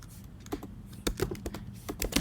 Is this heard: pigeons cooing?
no